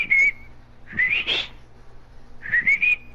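A person whistles in three short rising and falling bursts, loud and close, with pauses between them.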